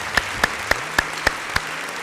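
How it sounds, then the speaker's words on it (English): Audience applause for the winners at a student award ceremony: a backdrop of clapping with six distinct, evenly spaced loud claps standing out close up, over a low steady hum. "So a big round of applause to all of our winners."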